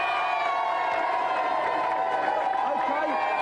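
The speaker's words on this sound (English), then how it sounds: "let's have a big round of applause for Take This" A game-show studio audience cheers and whoops continuously throughout, a dense crowd wash with scattered shouts and a steady hum of noise.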